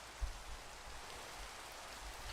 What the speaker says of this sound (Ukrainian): перебачте, як паде дощ та вам шумно